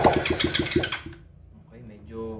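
A motorcycle engine being started on a newly wired setup low on gasoline, giving a rapid, chugging cranking rhythm for about a second before dying out, followed by a faint mechanical hum as someone talks nearby.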